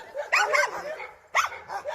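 Yakut hunting dogs, kennel-raised and trained for large hoofed game and bear, bark in two sharp close bursts with a brief gap, loud and clear.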